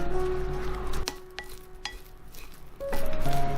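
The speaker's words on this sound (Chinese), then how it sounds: "再来打2个鸡蛋， 然后搅拌均匀。" Two eggs being beaten and stirred evenly in a bowl, with sharp clinking taps of utensil against the dish over a steady background hum.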